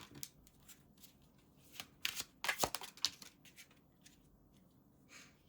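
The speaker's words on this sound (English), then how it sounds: "I want to pull another card." Tarot cards shuffled and pulled from a deck, giving a few soft riffling flutters and crisp snaps close by, with quiet gaps between them.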